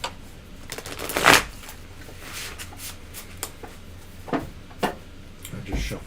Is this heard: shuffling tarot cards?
yes